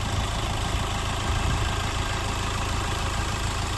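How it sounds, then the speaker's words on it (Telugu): A 2018 Hyundai Verna Fluidic SX (O) with a 1.6 CRDi diesel engine idles with a steady, even drone and a low hum that never changes pitch, close by and with no one speaking. "ఇంజన్ అయితే ఎగ్దమ్ పిన్ డ్రాప్ సైలెంట్ అన్నమాట"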